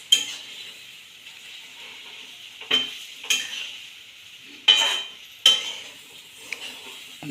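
Stale bhakri pieces stirred and turned over in a kadhai, a soft background sizzle broken by several sharp scrapes and clinks of a spoon against the metal pan.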